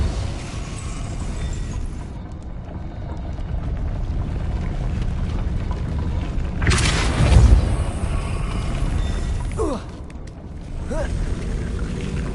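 Casting the Depulso force spell in Hogwarts Legacy on PlayStation 5 sets off a sudden, heavy booming burst midway through, over a constant low rumble of in-game ambience.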